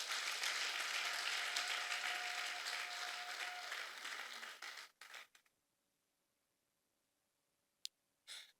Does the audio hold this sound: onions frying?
no